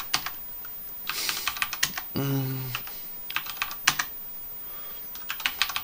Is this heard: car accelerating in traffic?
no